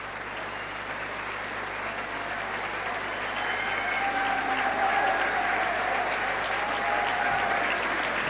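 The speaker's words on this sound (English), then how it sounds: "Giving him a fine round of applause there." A rugby league crowd at a 1986 St Helens versus Carlisle match applauds a player leaving the field, a broad, distant-sounding wash of clapping that swells slightly partway through.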